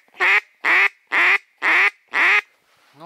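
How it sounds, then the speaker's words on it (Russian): During a duck hunt near Moscow, a duck gives five loud, evenly spaced quacks close by in a steady rhythm, then falls quiet, with no talking. "утки, утки, где же вы?"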